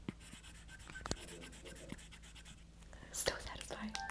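A stylus scratches and strokes across a matte screen protector with a papery, pencil-like texture, in short, quiet, close-up strokes, and a soft whispering voice joins near the end.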